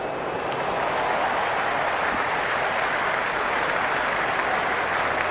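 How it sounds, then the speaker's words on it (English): A packed cricket stadium crowd claps and cheers steadily during a Sydney Sixers versus Melbourne Stars match, a dense, continuous wash of applause with no break. "It's the most enthusiastic crowd you could ever see right now"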